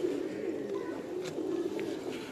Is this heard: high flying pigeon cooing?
yes